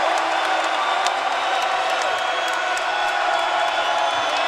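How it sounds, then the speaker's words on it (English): A big basketball crowd at the Spectrum in Colorado State at Utah State college play gives a loud, sustained ovation of cheering and applause, steady wash of noise throughout. "There is a big crowd here at the Spectrum tonight, and they certainly appreciate that with an extended ovation."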